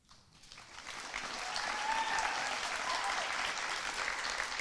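An audience at a school ceremony applauding students, with steady, sustained clapping that swells after a quiet start and continues evenly throughout, heard from within the hall.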